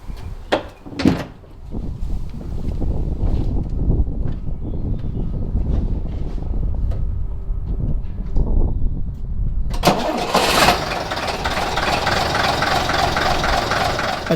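A vintage London bus is moved out of a tight doorway space, its engine running steadily and loudly throughout, with a few door-like clunks early on and a brighter rush of sound near the end.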